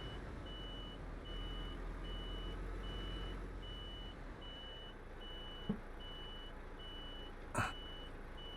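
Reversing beeps from a truck in Euro Truck Simulator 2: a faint, steady series of short evenly spaced tones running under a continuous engine rumble, with a couple of brief clicks near the end.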